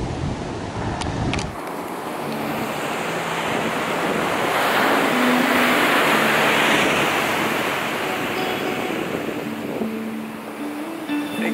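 Heavy ocean surf at Big Beach, a loud continuous roar of breaking waves that swells and eases, with wind buffeting the microphone and no voices.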